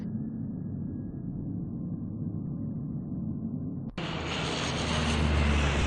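Airplane engine in the adventure game Secret Files Tunguska: a steady low propeller drone that abruptly swells into a louder, brighter roar midway and keeps building.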